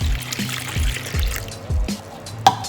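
Warm water pours into a bowl holding active dry yeast and sugar, a close, continuous trickle with a few soft knocks and a brief clink near the end, no voices.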